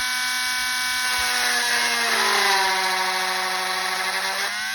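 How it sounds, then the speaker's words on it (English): A Dremel rotary tool bores into a 3D-printed tire, a steady high-pitched whine that dips and roughens midway as the bit bites into the material, then recovers, loud and close with no talk. "you get your Dremel, turn it on, and we're going to get our tire here, and we're going to sink a hole"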